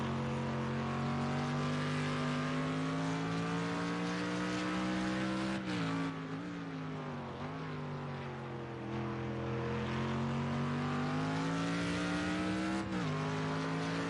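A GT3 race car engine in a racing video game drones steadily at high pitch, dipping and climbing as it shifts and revs, loud and continuous with no talking.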